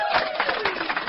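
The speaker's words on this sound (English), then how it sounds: "That applause is for you, the listeners" Applause from a crowd rolling on for about a second, a steady dense patter of many hands clapping with no talking over it.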